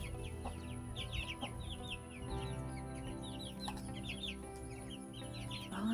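Six-week-old chicks free ranging outdoors for the first time, giving a steady stream of soft clucks and high chirps across the whole stretch, with a low outdoor hum underneath.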